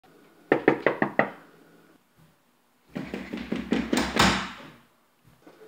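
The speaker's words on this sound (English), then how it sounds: "Someone's at the door." Knocking on a door in a house: a quick burst of five sharp knocks, a pause, then a longer, louder run of heavy knocks and pounding, close and alone with no talk.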